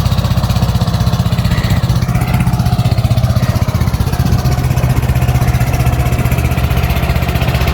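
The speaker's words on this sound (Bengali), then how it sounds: "এই যে একটা ট্রলার যাইতেছে" A trawler boat's engine chugs loud and close near Guliakhali beach in Bangladesh, a steady rapid throbbing drone that holds throughout.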